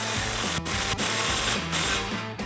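Impact wrench tightening an exhaust clamp on a Ford F-150 during a dual exhaust install, heard as loud, continuous, close buzzing bursts with brief dips and no talking.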